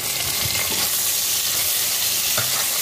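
Chopped onions frying in a pan with ginger and garlic give a steady, close, bright sizzle, with a few soft stirring knocks and no talking.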